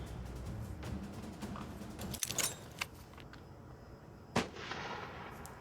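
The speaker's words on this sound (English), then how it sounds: "Oh, that's a flashbang." A flashbang grenade goes off in the military shooter game America's Army, giving a sharp bang that rises above a steady background of game ambience, with a couple of smaller clicks and rattles around it.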